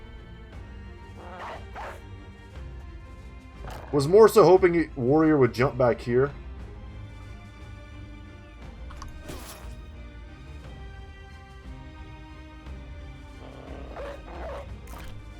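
A dog barks in the video game Battle Brothers, a short run of rapid, close yaps and a whimper amid game combat noises, with someone talking quietly over the scene.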